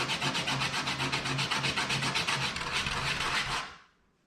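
80-grit sandpaper rubbed by hand over wood for a lighthouse build, making close, steady back-and-forth rasping strokes in a quick even rhythm that stop abruptly near the end.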